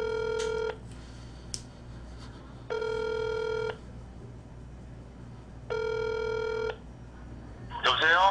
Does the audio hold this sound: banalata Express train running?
no